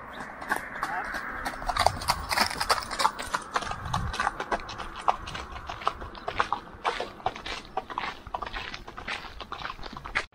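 Horse hooves clip-clopping on a forest trail of the Camino de Santiago near Palas del Rey, a steady run of close, sharp hoof knocks continuing for several seconds.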